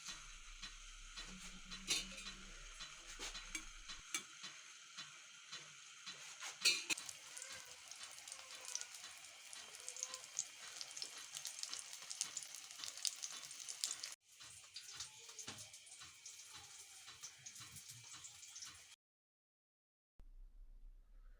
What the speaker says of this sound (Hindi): ऑयल के गर्म होने पर ब्रेड को इस पर रख लेंगे और लो मीडियम आंच पर 2 से 3 मिनट तक पकाएंगे।